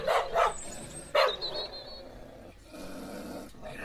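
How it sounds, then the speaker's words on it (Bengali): Several dogs bark in an audio story, sharp loud barks in a quick burst near the start and again past a second, then a lower background wash with faint yips over a steady ambient bed. "কুকুরগুলোর ঘেউ ঘেউ শব্দ শুনতে শুনতে সকালের কাঁচা ঘুমটা ভাঙতেই"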